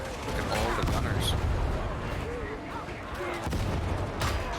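Gunners firing in Warhammer 40,000: Darktide, a sustained dense rattle of gunfire and booming impacts throughout, loud and close, with battle noise layered underneath.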